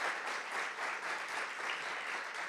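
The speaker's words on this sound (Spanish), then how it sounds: "Recibamos con un fuerte aplauso" A conference audience claps steadily throughout, a dense even patter of many hands filling the room.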